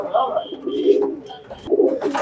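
Pigeons, including Batera and Teddy breeds kept for sale, give soft, close coos in a few short bursts.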